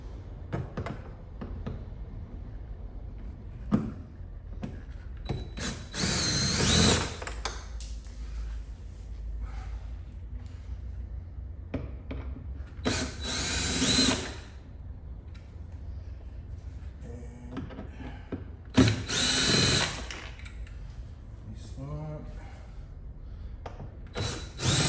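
Power drill or impact driver removing the four bolts from a Mercedes G63 AMG front door trim, with three loud bursts of whirring spaced several seconds apart amid quieter handling clatter.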